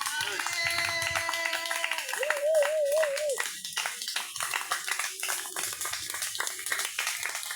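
A church congregation claps rhythmically in acclamation during a prayer, steady hand claps under loud singing and shouting voices throughout.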